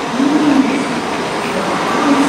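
Loud, steady rumble of an eight-car Sanyo Shinkansen bullet train pulling into Okayama Station, with a faint high whine of wheels or motors rising and falling; no talking.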